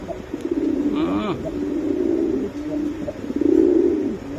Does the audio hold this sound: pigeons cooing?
yes